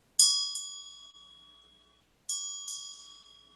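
Small, simple bells struck twice, each time with a pair of bright quick chimes that ring out and slowly decay into silence, close and clear.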